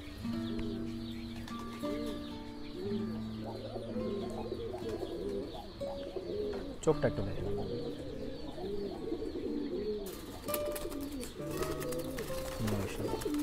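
Fighter pigeons from tournament stock coo in low, repeated rolling calls close by, continuing steadily while someone talks over them.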